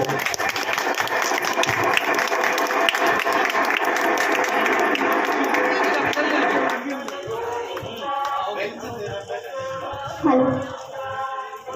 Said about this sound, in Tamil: அவர்களை வருக வருக என கரகோஷம் தட்டி அன்புடன் வரவேற்கிறோம்.